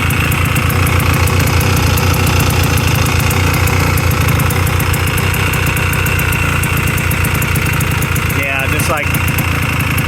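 A 1986 Honda TRX 250R ATV, a two-stroke quad, idles loudly and steadily up close while warming up, with someone talking over the buzzing engine throughout.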